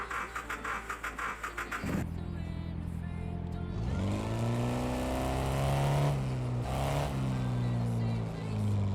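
A car engine in Car Mechanic Simulator 2026 starts up and drives off, revving and climbing in pitch after a brief pause, loud and close with no talk over it.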